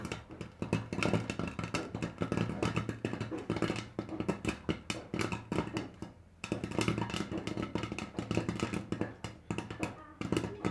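Corn kernels burst into popcorn inside a covered pan over a gas flame, a dense, continuous crackle of overlapping pops with a short lull near the middle before the popping resumes.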